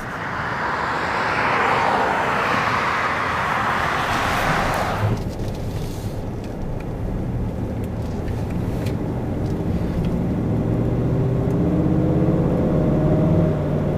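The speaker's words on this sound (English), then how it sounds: "I do love the growl of this engine. It just sounds amazing when you nail it." The 6.2-liter V8 of a 2015 Cadillac Escalade 4x4 roars under heavy throttle, a loud rushing growl that suddenly drops off, then settles into a steady lower drone.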